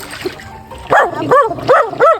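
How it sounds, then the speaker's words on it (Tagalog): A dog barks four times in quick succession, fairly close and loud, with bright yappy calls and faint background noise between them. "may tumatahol sa amin na aso"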